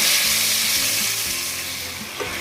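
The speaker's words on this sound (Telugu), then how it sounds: "వేగిన మసాలాల్లో చికెన్ పీసులు వేస్తున్నానండి." Chicken pieces drop into hot oil with fried spices and kasuri methi for a restaurant-style dum biryani, a loud, steady, close hiss of frying with soft bumps as the pieces settle.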